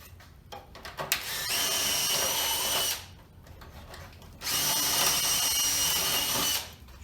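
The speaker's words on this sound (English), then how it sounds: "drill your holes through" A power drill bores holes through a wooden board-and-batten shutter in two sustained whirring bursts of roughly two seconds each, separated by a short pause, heard close up with no voices.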